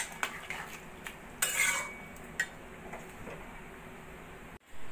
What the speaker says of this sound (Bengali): সবকিছু ভালো করে মিশিয়ে নেব।